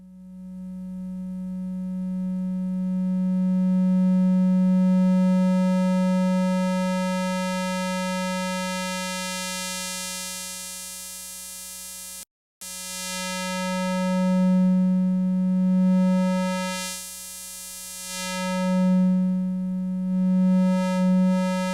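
A steady Korg Electribe 2 synthesizer tone whose band-pass filter sweeps slowly up and down through the harmonics, briefly cutting out midway before resuming its shifting, whistling resonance.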